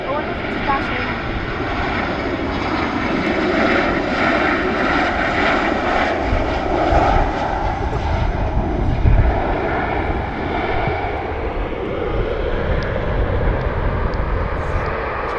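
A Ryanair aircraft at Dublin Airport makes a steady, loud, broadband engine roar that holds for the whole stretch. A voice talks faintly underneath.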